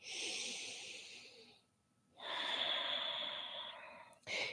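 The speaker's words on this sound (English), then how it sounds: "Long, deep breathing." Long, deep breaths during a Kundalini yoga forward fold sound close and airy: one sustained breath, a short pause, then another long breath, with a brief third breath starting at the end.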